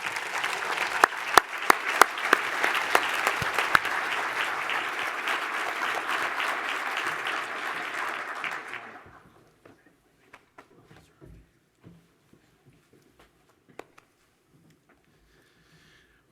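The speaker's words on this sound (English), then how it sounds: "One more round of applause for Alan" Audience applause at a community breakfast event, a full steady burst of clapping for about eight seconds that abruptly stops, leaving a few scattered claps and quiet room noise.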